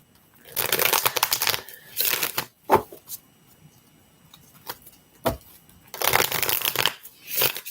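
Tarot cards being shuffled by hand in two bursts of crisp riffling, each roughly a second or two long, separated by a quiet stretch with a few soft taps and card handling sounds; close and fairly clear, no talking.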